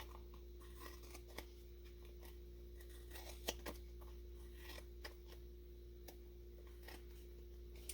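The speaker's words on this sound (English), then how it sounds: "We'll take our scissors and just trim that off." Scissors trim paper while a junk journal is made from a Little Golden Book: a handful of quiet, scattered snips and small clicks over a low steady hum, close but faint.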